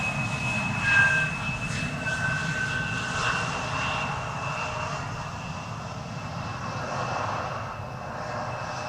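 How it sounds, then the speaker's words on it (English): A KLM Boeing 737-800 jet lands on runway 18R at Amsterdam Schiphol, its steady engine roar holding at a moderate level for the whole span under broad wind-like rumble. "it is time for KLM flight 1704 to land over here. That's a 737-800 that came all the way from Brussels"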